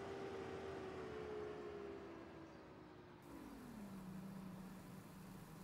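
A tractor engine in Farming Simulator 19, heard from the cab: a steady, close mechanical hum that holds level, then drops to a lower pitch partway through and settles into a droning idle-like tone.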